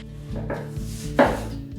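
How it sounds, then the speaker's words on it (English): A knife slicing a zucchini into thin rounds on a board, a quick series of crisp chopping taps, close and clear, the last one louder. "Slice it thinly into medium rounds."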